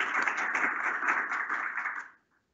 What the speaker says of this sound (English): can we just have a round of applause for Soraya for that fantastic presentation